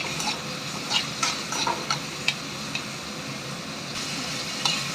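Tomatoes and curry leaves fry in hot oil with a steady close sizzle, broken by scattered light scrapes and taps of stirring, and no voices.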